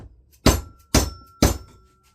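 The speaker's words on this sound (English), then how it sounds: "I'm just using my tool here so it's nice and centered to hammer this collar back onto the bearing" Three sharp metallic hammer strikes, evenly spaced about half a second apart and close up, tapping a collar onto a pump motor bearing with a centering tool during a Hayward Powerflo Matrix pump seal and bearing replacement.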